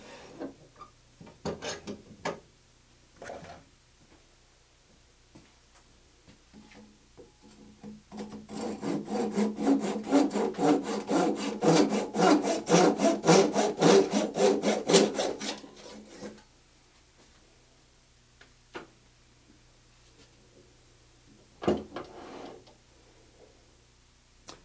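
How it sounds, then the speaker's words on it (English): A hand saw cuts through a turned Banksia box, a few seconds of steady rapid back-and-forth rasping strokes close by, set between quieter taps and handling knocks of wood. "now I'm going to cut the balance of that the rest of the way through with a saw"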